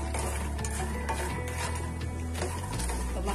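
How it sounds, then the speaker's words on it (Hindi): Fox nuts (makhana) roasting in a pan over medium flame, stirred steadily with a scraping, rustling rhythm and a light sizzle, close and continuous with no talking. "और इसमें हम डालेंगे इस मखाने को, सॉफ्ट नट, और इसे भी हम अच्छी तरह से भून लेंगे ताकि हल्के से रोस्ट हो जाए।"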